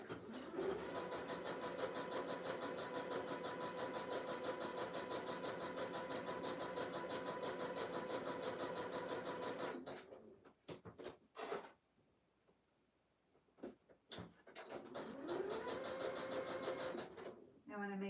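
A sewing machine stitching a fleece robe whirs steadily at close range for about ten seconds, stops for a few seconds with only brief clicks and handling noises, then starts stitching again.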